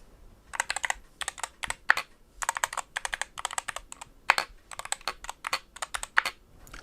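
Close, clear keystrokes on an Endgame Gear KB65HE aluminium keyboard with Gateron Hall Effect switches, typed in short irregular bursts with a few louder, distinct space-bar thocks among the lighter clicks.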